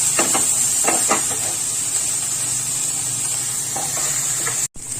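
Tomato masala for egg bhurji being stirred in a frying pan, a steady close sizzle and hiss with soft scraping strokes of the spoon, a brief break near the end.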